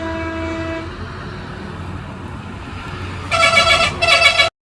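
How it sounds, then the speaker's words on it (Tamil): A lorry or bus on a hill road in the Kolli Hills sounds its horn in two loud, close blasts near the end, after a steady low rumble of traffic. "லாரியும் வருது, பஸ்ஸு."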